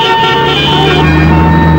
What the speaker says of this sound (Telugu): దేవుడా, ఇదేం ట్రాఫిక్